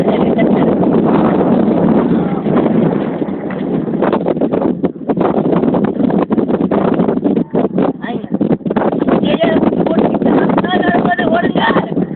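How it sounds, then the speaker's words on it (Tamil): Strong wind roars and buffets the microphone continuously, with rustling and voices faintly underneath. "காத்துடா."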